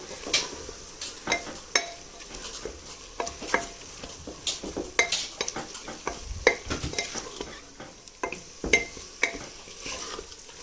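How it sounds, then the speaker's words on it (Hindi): Minced chicken sizzles in a pan with spices and garlic-ginger paste while a spoon stirs and scrapes repeatedly, with irregular clinks against the metal; no voices. "अब 2-3 मिनट मसालों के साथ भी, लहसुन अदरक के पेस्ट के साथ भी भून लेते हैं।"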